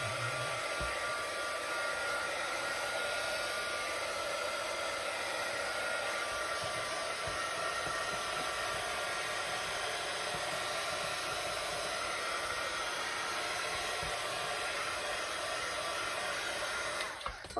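A hair dryer blows steadily on a craft project, a constant close whooshing hiss that holds unchanged for the whole stretch before cutting off at the end.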